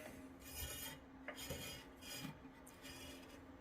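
A metal lathe tool rubs stock off a workpiece and throws curly chips, giving repeated rasping, scraping passes of steady moderate loudness, close by, with no talking.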